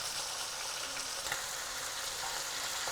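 Honey garlic chicken fries in a pan as a piece is turned over, a steady quiet hiss of sizzling oil with a brief scrape or clatter near the middle.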